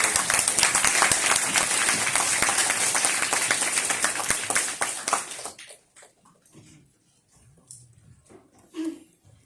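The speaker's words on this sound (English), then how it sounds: "let's give Gavin one last big round of applause for all the insights he shared with us today" An audience at a Jam Tour talk on Polkadot and Web3 in Taiwan applauds its guest Gavin, dense clapping for about five seconds before it thins out and fades into scattered claps and room noise.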